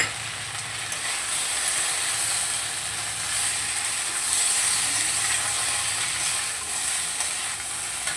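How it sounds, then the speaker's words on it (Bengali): Spice masala frying in a pan for a vegetable fish curry, giving a dense, steady high sizzle and hiss that carries evenly throughout at close range, with no talking. "তো দেখুন বেশ কিছুটা আমি মশলা দিয়ে দিয়েছি, এবার একটু ভালো করে কষে নেব।"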